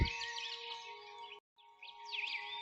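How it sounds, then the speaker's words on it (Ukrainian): Small birds chirp and twitter in quick, high trills over a steady electronic tone, with a short silent gap midway. "І повсюди чути пташиний спів"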